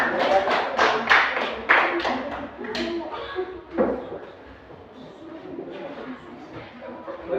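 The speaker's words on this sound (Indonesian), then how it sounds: "Ya, kita tepuk tangan untuk" Classroom group clapping after a student group's mathematics presentation, a burst of bright claps at the start that thins out and fades, with talking heard alongside.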